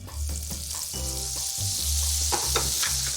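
Oil and butter heating in a hot frying pan, a loud, continuous close sizzle that flares and shifts with some stirring noise, no one speaking.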